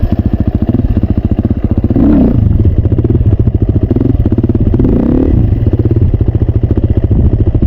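A loud, close motorcycle engine chugging at low revs during a slow wheelie, a rapid steady pulse that swells slightly twice as the throttle is eased.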